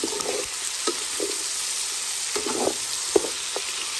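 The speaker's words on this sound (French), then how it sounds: "Il mélange volaille et oignons." Chicken and onions for a curry fry in a pan while being stirred, a bright continuous sizzle broken by soft scraping stirs and one sharp clack, close up with no voices.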